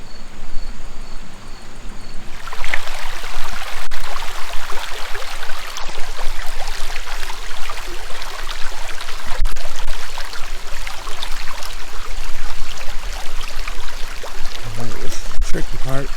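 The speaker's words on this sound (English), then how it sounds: "Alright, well, I'm going to filter some water." Water running steadily while being filtered on the Ozark Trail, a continuous trickling wash that starts after a quiet opening and stays fairly loud throughout.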